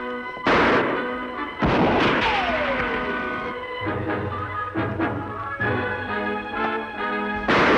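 Gunfire in an Old West shootout, with several loud sharp shots spread across the scene and a low rumbling tail under them, close and dramatic like radio-style action sound effects.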